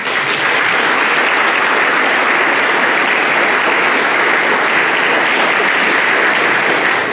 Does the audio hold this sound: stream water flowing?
no